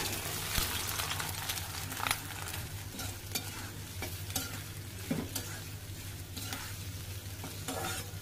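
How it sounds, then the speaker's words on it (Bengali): Onion and garlic frying in a pan, a steady close sizzle broken by light scraping and clicking stir strokes throughout, with no talking. "পেঁয়াজ রসুনগুলো দিয়ে দিই।"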